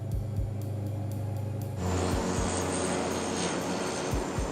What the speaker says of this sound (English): The captain tells the first officer he'll adjust the engine power during the landing.